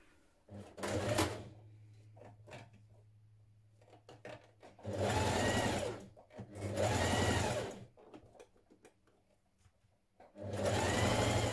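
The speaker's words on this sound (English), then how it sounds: "manipulating the fabric with your fingers as you stitch" A sewing machine stitches sweater knit fabric into gentle gathers, running in several loud, steady bursts separated by quieter pauses, with the fabric guided by hand between runs.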